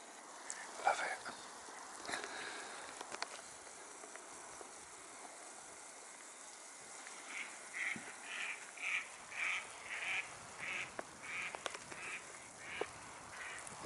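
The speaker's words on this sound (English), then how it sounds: "All those ducks moved off and this little fella refused to move" Ducks quack by the water, a series of faint nasal calls repeating in a loose rhythm in the second half over a soft outdoor hiss.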